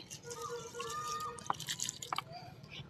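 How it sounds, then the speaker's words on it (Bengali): Water is poured from a bottle onto a dry potted plant, giving a soft trickle with a few distinct drips and splashes, quiet and close, over faint background noise. "দেখো এই গাছেও জল দিচ্ছি"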